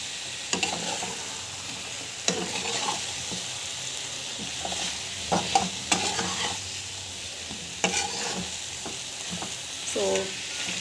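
Elephant foot yam (karunai kizhangu) fries with spices in a pan, giving a soft continuous sizzle broken by repeated scraping and stirring clanks at a moderate distance.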